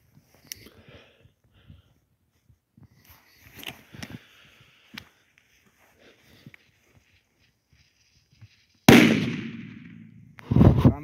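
A Mamba 2 firecracker goes off outdoors, a single sharp, loud bang with a long rumbling decay after quiet rustling and footsteps, then a second burst of noise right after.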